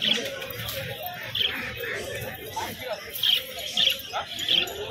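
Giribaz and Madras pigeons at a market sale give short, moderately loud chirps and calls at intervals, mixed with bird chatter, under continuous people talking nearby.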